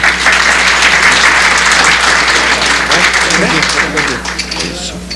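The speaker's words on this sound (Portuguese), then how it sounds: "Vamos dar uma salva de palmas a ele" A room of attendees at a justice delegation event gives a loud, sustained round of applause, dense clapping that holds steady and then tapers off slightly near the end, with a steady low hum underneath.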